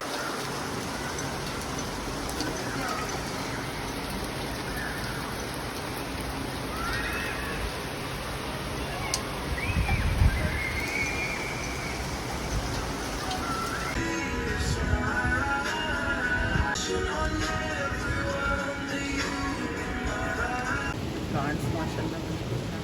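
Heavy rain pours steadily onto terraces during a cloudburst, a dense continuous hiss with occasional louder splashes, while a person talks over it.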